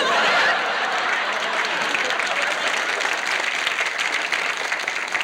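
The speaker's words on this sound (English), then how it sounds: "And the crowd goes wild." A studio audience claps and cheers loudly for a comedy juggling bit, a thick wash of applause from a crowd, steady throughout with a few scattered chuckles in it.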